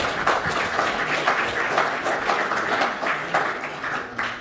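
Audience applause after a talk at a sugar beet technology event, a dense, even patter of many hands clapping at moderate volume throughout.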